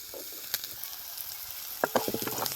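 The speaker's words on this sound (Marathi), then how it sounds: "कांदा चांगला आहे परतून घ्यायचा चांगला" Onions frying and being stirred on a wood-fired stove, a soft sizzle under scattered clinks and scrapes of a spoon, with a burst of quick stirring strokes near the end, fairly quiet and without speech.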